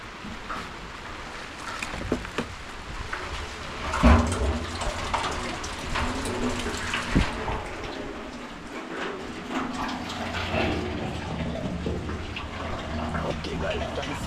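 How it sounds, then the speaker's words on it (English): Rainwater running and being channeled indoors during a downpour, a steady broadband rush and splash that continues throughout with occasional thumps and a voice speaking intermittently. "You see right now all the water are being channeled directly inside. And it's raining actually."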